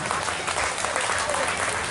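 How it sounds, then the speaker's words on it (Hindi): Enthusiastic crowd applause at a Durga Puja Navami cultural program for a young girl singer, loud, continuous and dense clapping from a large audience. "हाथ उठाकर तालियां बजाइए प्रगति के लिए, हाथ उठाकर"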